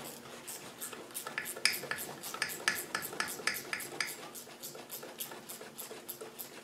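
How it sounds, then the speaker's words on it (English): A small ratchet backing out 13 mm bolts on an LT77 gearbox during an overhaul gives a rapid, steady clicking close by, fairly quiet and continuous, with no voices. "So we're going to use a little ratchet to get those off."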